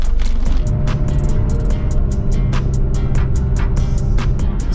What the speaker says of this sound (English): All right, here we go, test drive time.